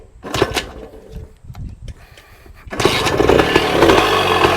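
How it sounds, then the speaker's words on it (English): A 1966 Bultaco Lobito motorcycle engine, high compression, sputters with a few uneven pops and bumps, then catches near the end and runs loud and steady with a harsh, buzzing two-stroke drone. "I'm going to start it again, I hope, but that's not the way this girl likes to run."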